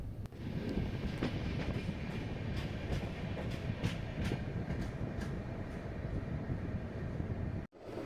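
Bodinayakanur AC Express train running fast on rails, heard from inside a second-tier AC coach as a steady loud rumble with rhythmic clicks, ending abruptly with a sharp transient.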